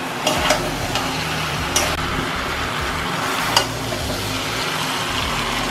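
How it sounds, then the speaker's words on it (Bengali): Water poured into a pan of jackfruit and potatoes frying in spices and oil, a steady broadband sizzle and wash running throughout at close range, with a few faint ticks of a utensil. "আমি জল ঢেলে দেব।"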